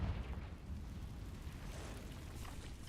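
The Confringo fire blast spell in Hogwarts Legacy explodes with a deep, roaring rumble that fades into a sustained whooshing burst inside a cave.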